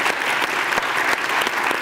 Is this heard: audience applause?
yes